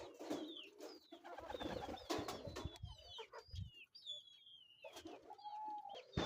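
Pigeons coo softly and repeatedly at close range, with overlapping warbling calls, some chirps and light rustling, a quiet, busy loft with no voices.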